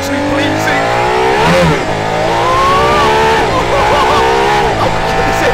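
Aston Martin Valkyrie engine revving hard on a race circuit, a loud, close, high-pitched wail that climbs and dips through gear changes, with a voice talking over it.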